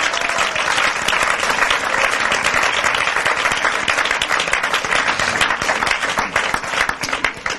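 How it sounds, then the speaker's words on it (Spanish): Loud, thick applause from a church congregation, many hands clapping together in a continuous roar that holds strong throughout and thins slightly near the end. "Dele aplauso al Señor Jesucristo esta mañana."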